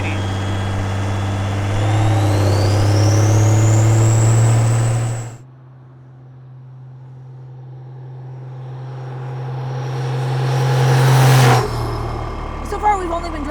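A compound-turbo 12V Cummins diesel in a Model A dually rat rod drives past: a deep, loud engine drone with a rising turbo whine, a sudden drop in power, then another climbing rev, with voices over it.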